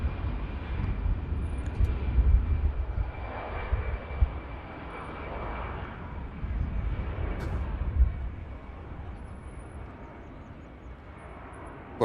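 A Lufthansa Airbus A320 taking off at Manchester Airport gives a distant, muffled jet rumble that surges and fades in broad waves, with faint wind noise beneath.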